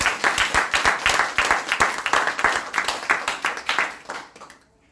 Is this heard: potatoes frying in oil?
no